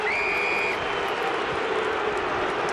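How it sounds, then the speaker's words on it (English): Football crowd booing at a 2011 AFL match between Fremantle Dockers and Adelaide Crows, a steady, loud wash of massed voices filling the stadium with a brief whistle-like tone near the start. "Crowd still booing for the last one."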